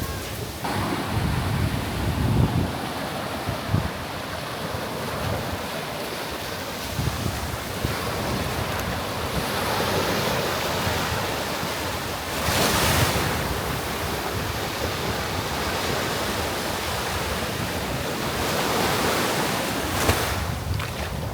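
Atlantic surf breaking on a black volcanic sand beach in Tenerife: a continuous roar of waves with recurring louder crashes, heavy wind buffeting the microphone throughout.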